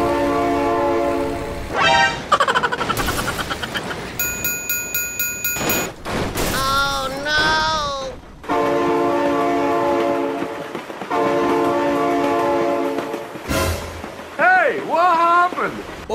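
Trains pass with loud, long horn blasts in the BeamNG Drive driving game, repeated and sustained over engine and crash noise, while a person exclaims and shouts throughout.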